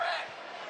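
A rugby league crowd howls at a penalty decision, a broad roar of voices that fades slightly in less than a second, heard at a distance.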